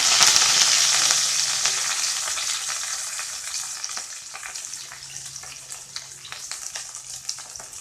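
Sliced onion and curry leaves hit hot oil in a pan for an egg tomato thokku, an initial loud sizzle settling into a softer, crackling fry with occasional stirring clatter.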